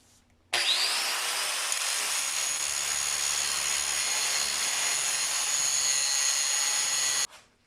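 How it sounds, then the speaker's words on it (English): Makita 9557PB angle grinder grinding a piece of scrap metal pipe clamped in a vise, a loud, steady high-pitched grinding whine that starts abruptly and holds for about seven seconds before stopping, with no talk. "So now let's try out the grinder. Have clamped in my vise a piece of scrap metal pipe,"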